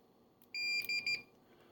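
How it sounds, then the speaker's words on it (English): Brüel & Kjær 1612 band pass filter test equipment gives a brief high electronic beep in a few short pulses, clear and close against a quiet background. "Here is a little beepity beep."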